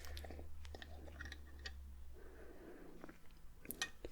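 Lavender honey being tasted up close, with soft wet mouth sounds, small chewing clicks and sticky smacks, quiet and intimate, no talking.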